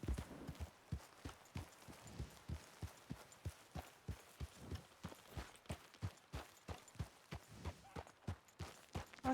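Horse hooves in Red Dead Redemption 2 clip-clopping at a steady walking rhythm, evenly spaced soft thuds, fairly quiet and continuous with no talk over them.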